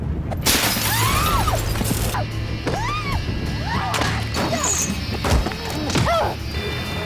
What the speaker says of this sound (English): the masked man suddenly smashed the rear window